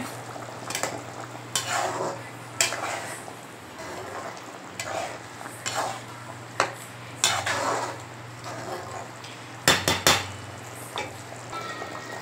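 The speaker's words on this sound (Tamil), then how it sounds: "வெங்காயத்தாள் போட்டு நல்லா மிக்ஸ் பண்ணிக்கோங்க" Spring onions being stirred into a simmering dried fish curry, with a metal spoon scraping and clanking against the pot in irregular strokes over a steady low bubbling and sizzle, no talking.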